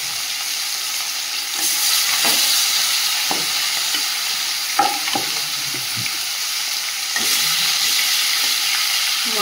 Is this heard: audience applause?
no